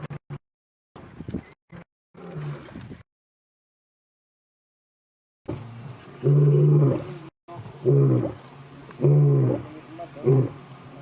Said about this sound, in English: I could hear that was a much louder and deeper roar.